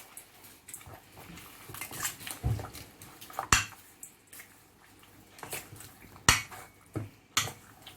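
Pork being mixed by hand in a bowl with apple cider vinegar and bay leaves, producing irregular wet squishes and light clinks against the dish, close and fairly quiet, with no voice.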